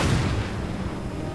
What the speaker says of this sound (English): Artillery reporting. Cannon ready,